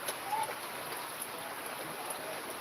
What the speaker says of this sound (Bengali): আমাদের এখানে ভালোই বৃষ্টি হচ্ছে